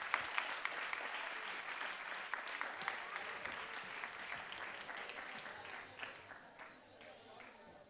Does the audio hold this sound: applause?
yes